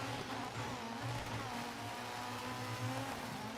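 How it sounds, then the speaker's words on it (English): A rally car engine drones and revs steadily from the racing video game DiRT 3, a continuous mechanical hum with shifting pitch. "Great sounds from the car we've just passed."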